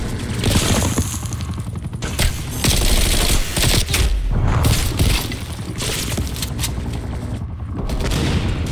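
Sustained, dense automatic fire from a chain gun in a Call of Duty Black Ops Cold War competitive match, roaring almost nonstop for several seconds with a few brief dips and crackling impacts layered throughout.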